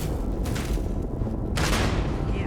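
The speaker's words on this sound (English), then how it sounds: "Let me just toss a grenade at you." Two heavy grenade blasts boom in the Starfield video game, one short and one longer with a rumbling tail, set over a constant loud background of in-game noise.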